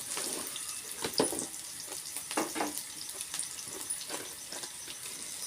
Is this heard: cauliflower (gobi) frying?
yes